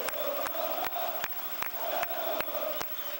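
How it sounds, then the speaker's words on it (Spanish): Quilmes supporters chant in the stands during a league match against Independiente, a distant, reverberant crowd song with sharp rhythmic claps or drum hits punctuating it about every half second. "Quédate, Braña, que se va la comisión, dice la gente de Quilmes"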